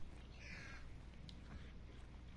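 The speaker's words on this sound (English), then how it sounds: "Is that a double spawn of crows?" Crows cawing in the video game Hunt: Showdown, a few hoarse caws at a middle distance over a steady, faint outdoor hum, fairly quiet overall.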